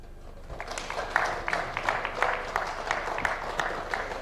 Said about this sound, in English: Another round of applause for Honorable Kimani